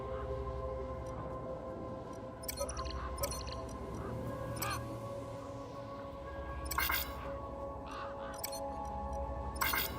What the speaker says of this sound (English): there are a large number of gang birds in this area